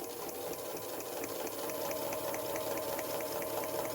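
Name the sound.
sewing machine stitching quilt backing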